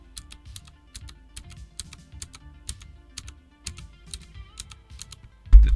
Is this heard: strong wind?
no